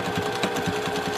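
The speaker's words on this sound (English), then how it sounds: "Sewing my pocket on to my interfaced" A sewing machine stitches a pocket onto interfaced fabric, with a steady, close, rapid mechanical hum and a rhythmic needle pulse and no talking.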